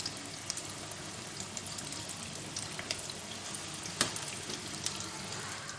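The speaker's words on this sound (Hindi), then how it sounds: "सारे पीसेस अलग अलग करके इस तरह से डीप फ्राई कर लेंगे" Fish pieces deep frying in hot oil crackle with a steady, dense hiss and scattered pops, close and fairly quiet, with one sharper spatter near the end and no talking.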